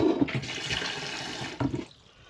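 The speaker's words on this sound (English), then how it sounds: "Just need a little bit more water in them." Water pours from a tap into a cooking pot of vegetables, a splashing rush that runs steadily, surges once more near the end, then cuts off to near quiet.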